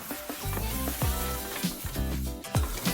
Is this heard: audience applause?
no